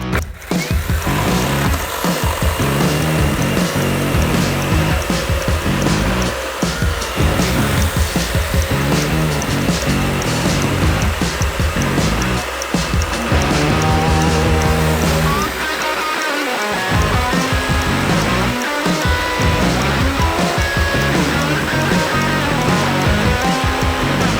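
A Procraft cordless saw cuts through wood continuously and loudly, its motor whining steadily with brief dips in pitch as it bogs under load.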